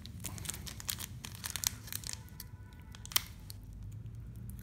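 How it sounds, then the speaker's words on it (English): Pokémon card booster pack being ripped open by hand, a series of sharp foil tearing and crinkling sounds close up, uneven bursts with short pauses between them. "Let's just rip the pack open like so."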